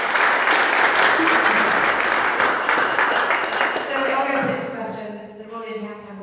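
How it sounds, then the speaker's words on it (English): Audience applause breaks out after a startup pitch demo, a dense wash of clapping that holds steady before thinning out near the end, with a few voices and scattered claps as it fades. "Round of applause, please."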